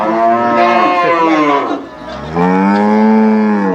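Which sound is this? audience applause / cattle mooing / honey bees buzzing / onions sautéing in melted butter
cattle mooing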